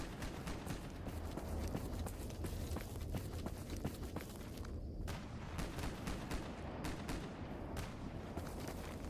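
Video game gunfire in a dense, continuous stream of faint, distant shots and crackling bursts, with hurried movement sounds mixed into a constant noisy background.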